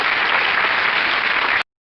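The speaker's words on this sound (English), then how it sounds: "I'm clapping for you." An audience claps after a talk in Jeddah, a dense, even burst of applause lasting just over a second and a half, then cutting off abruptly.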